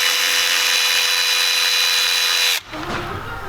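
A Snap-on or Milwaukee 1/4 inch extended reach cordless ratchet runs with a loud, steady high-pitched motor whine, close up, then cuts off abruptly into a lower clattering rattle.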